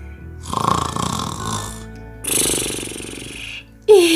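A storyteller imitates snoring in a children's tale about sleepy piglets, giving two long, loud, rasping snores with a pause between them, then a brief rising vocal squeak at the end.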